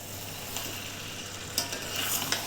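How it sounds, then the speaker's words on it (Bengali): Fried mutton, cooked for a Bengali mutton curry with potato, tipped into a pan and stirred, giving a steady low sizzle with a few sharper scraping clacks near the end, close and unaccompanied by speech. "আমি এদিকে ভেজে রাখা মাটনটা দিয়ে দিচ্ছি দেখো"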